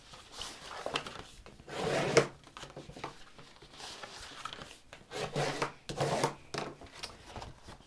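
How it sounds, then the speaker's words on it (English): A paper bonbon box has its fold creases burnished by hand, giving soft, close rubbing and scraping strokes that come in short bursts between quiet pauses. "we're just burnishing that crease every time"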